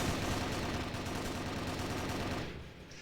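Dense, sustained automatic gunfire from a Call of Duty Warzone match, loud and continuous for most of the stretch before easing off near the end.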